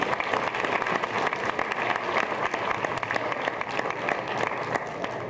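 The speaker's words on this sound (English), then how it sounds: "Let's give him a big hand." Sustained applause from a crowd, steady clapping filling the room without a break, loud and close throughout.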